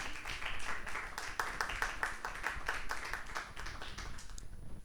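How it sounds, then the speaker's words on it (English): Audience members at a Puerto Rican Heritage Month community gathering give a round of applause: steady, rhythmic hand claps from a modest crowd that keep going for several seconds, then fade out at the end. "y'all can give everyone a round of applause"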